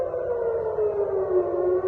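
A civil defense air raid siren wails across Tel Aviv, one loud sustained tone gliding slowly downward over the whole stretch, steady and alone with no voices.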